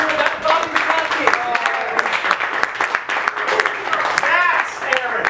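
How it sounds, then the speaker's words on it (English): Improv show audience at a Kansas City Fringe film festival applauding steadily, a dense roomful of clapping with cheers, while a host keeps talking over it into a microphone. "please give another big round of applause"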